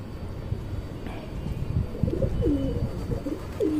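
Caged pigeons coo in a few soft, low rolling calls that rise out of a rumbling, noisy background.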